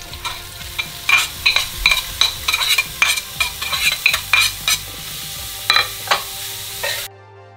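Plant-based mince sizzles steadily in a hot pan while a utensil stirs and scrapes it in repeated quick strokes, close and fairly loud, with no talking.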